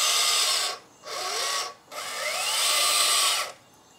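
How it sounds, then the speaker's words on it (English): A brushless electric motor on a 1/14 scale metal RC Unimog truck with CVT driveshaft whirs in three close, loud bursts, starting slow and spinning up to a high steady whine with short pauses between. "So here that's the motor, brushless and CVT drive shaft coming out to the gearbox. Turn it, you will see. Slow turning, speed up."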